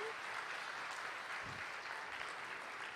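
Steady applause from a church congregation fills the whole stretch, a dense even wash of clapping with a faint voice underneath.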